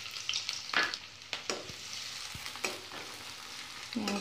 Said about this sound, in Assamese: গৰম এ পিয়াজ নি দি দিম